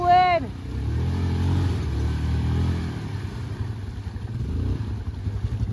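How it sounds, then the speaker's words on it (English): A stuck motorcycle's engine revs steadily while one front wheel spins in place, a loud, close, sustained drone that wavers slightly, with a brief voice at the start. "You only got one wheel spinning in the front."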